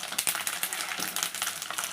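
Ingredients for a gongura prawn pickle frying in oil until brown, with a dense, steady crackling sizzle and small pops, close and moderately loud, and no talking.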